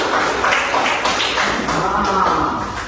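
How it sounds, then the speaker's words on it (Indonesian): Students in a classroom clap together in rhythmic, patterned bursts, a close and fairly loud group applause with a beat-like structure throughout. "Tepuk tangan dulu biar semangat."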